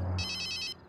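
A mobile phone rings with a bright electronic ringtone, a steady tonal melody that plays for most of a brief moment, close and clear over faint room background.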